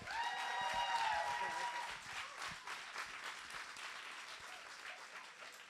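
An audience applauds at a showcase event honoring entrepreneurs, with dense clapping that peaks early, then gradually thins and fades, while a voice briefly sounds at the start.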